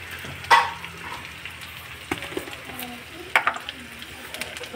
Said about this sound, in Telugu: ఒక 10 నిమిషాలు కరివేపాకుని ఇలా ఆయిల్లో వేయించాక